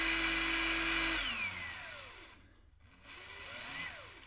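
A Ryobi cordless impact driver whirs at slow speed, its motor pitch winding down, pausing briefly, then spinning up and down again, loud and close.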